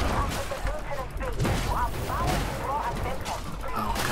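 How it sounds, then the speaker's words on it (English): Dense gunfire from many enemy units in the video game Warhammer 40k Darktide, a continuous rattle of overlapping shots and impacts at steady loudness through the whole stretch. "This one has a lot of units shooting at us."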